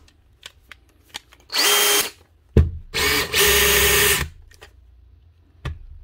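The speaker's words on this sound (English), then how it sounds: "One Dewalt drill, out of hammer mode." A Dewalt drill, switched out of hammer mode during repair, whirs in two strong bursts, the second longer and stuttering. Light clicks and handling knocks sound before and after, close by and with no talk.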